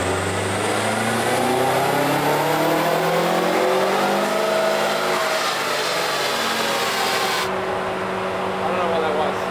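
Subaru Forester engine revving hard on a dynamometer, a loud sustained run with rising harmonics that climb steadily before cutting off abruptly near the end, with faint voices in the background.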